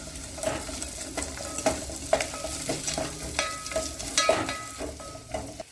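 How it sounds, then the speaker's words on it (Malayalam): Vegetables and turmeric powder are stirred in a hot pan for a samak rice pulao, with a soft sizzle and repeated scraping clinks from the spoon at an uneven rhythm, heard up close. "1/4 ടീസ്പൂൺ മഞ്ഞൾപ്പൊടി ചേർത്ത് ഇളക്കി കൊടുക്കാം."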